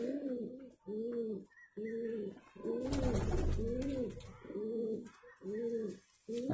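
A Laldum red-tail high flyer pigeon coos close by, repeating the same rolling phrase about seven times in a steady rhythm, with a brief rustle or flutter near the middle.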